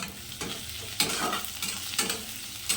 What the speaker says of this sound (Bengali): এখন রসুন আর পেঁয়াজ একসঙ্গে খুব ভালো করে ভাজবো